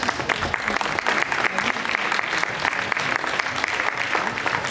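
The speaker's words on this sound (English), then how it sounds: "Bigger round of applause, guys." An audience at a stage event for long-married couples applauds in loud, sustained, dense clapping from many hands, with a little voice mixed in.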